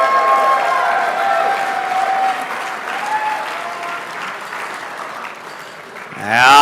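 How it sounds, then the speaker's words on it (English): Loud applause and some cheering from a crowd at an RC car racing world championship awards banquet, continuous dense clapping with a faint voice in the background and a reverberant announcer tone swelling near the end. "Keep that applause loud and proud."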